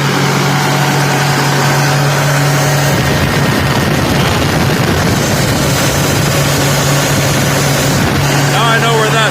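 A Versatile 936 tractor with a fuel leak at the pump and stuck in two gears runs at a steady heavy idle, loud and close, with a louder rougher stretch through the middle.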